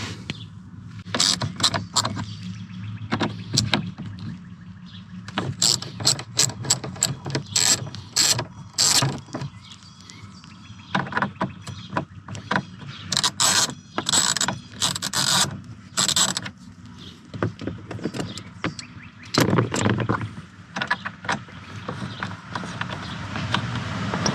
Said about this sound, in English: next we're going to use a T30 to get these two bolts out